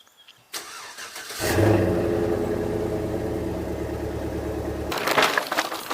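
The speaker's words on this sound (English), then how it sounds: "let's go ahead and start the truck" A pickup truck cranks and catches, then its mid-pitched engine runs steadily and loudly for several seconds before clunks and rattles as it moves off, with no talking.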